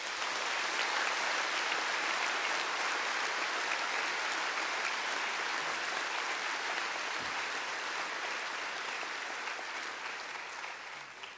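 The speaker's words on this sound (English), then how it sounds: "Please, a round of applause for all of them." Sustained applause from a large audience at a bar exam passers' oath-taking ceremony, steady dense clapping that holds throughout and tapers slightly at the end.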